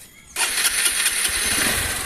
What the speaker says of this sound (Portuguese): Eu vou ligar ela pra vocês verem o barulho que vai ficar no motor.